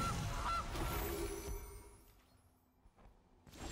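Honking from the Gilded Goose card in MTG Arena sits in a burst of game effects. A few honks come early, then the sound fades to quiet before a short clatter at the end.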